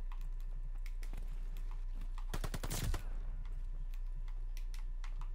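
MP40 submachine gun firing in Call of Duty Vanguard hardcore mode: a short rapid burst of close shots in the middle, with scattered keyboard clicks before and after.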